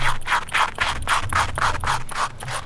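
A rake scrubs a Tesla car floor mat in quick repeated strokes, about ten rhythmic scratchy scrapes, close and fairly loud with no talking.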